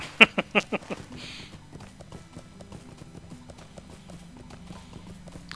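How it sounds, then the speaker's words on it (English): Horse mount hooves in Lord of the Rings Online: a quick run of sharp, loud clip-clop strikes at the start, then a softer, steady trot of hoofbeats carrying on over faint low game ambience. "luckily they gave us a horse. Little free 24-hour mount"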